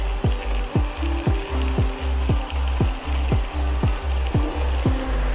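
Chopped coriander and softened tomatoes being sautéed in a pan for a potato bhaji, a loud close sizzle punctuated by a regular run of sharp spatula strokes roughly twice a second, with no talking.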